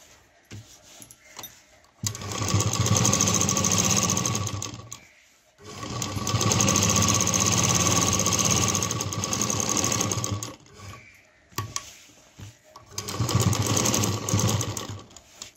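Sewing machine running in three long bursts of straight stitching on a homemade tiffin lunch bag, attaching a side belt, with short quiet pauses between runs; loud and close.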